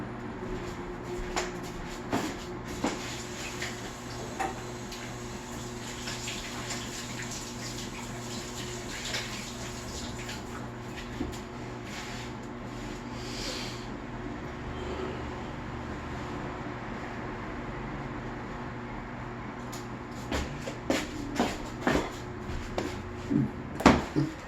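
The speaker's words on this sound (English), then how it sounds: "I need to wash this off my hands." Running water at a sink as chocolate is washed off hands, a steady low wash with scattered clinks and knocks, busier handling noises toward the end.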